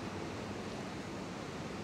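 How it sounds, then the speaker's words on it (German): Sea waves wash in a steady, dense roar of surf close by, a continuous broadband rush with no talk over it. "und immer das Gerausche des Meeres."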